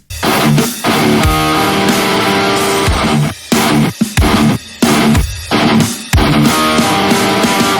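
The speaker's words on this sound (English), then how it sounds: "it's just Mario playing around with the drums" Loud, heavily distorted metal from Gojira's "Stranded" plays with pounding drums and guitars, broken by abrupt stops and stabs that shift the beat's feel like an odd time signature.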